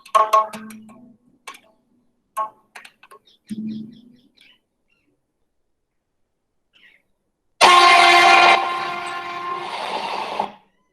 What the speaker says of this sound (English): That's a train in India.